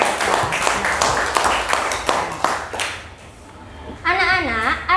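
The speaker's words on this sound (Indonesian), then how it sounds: "tepuk tangan buat kekompakan kita dalam membaca" Children in an Indonesian classroom clap their hands after reading together, a quick burst of close, sharp claps for about three seconds before the room quiets and a voice begins speaking.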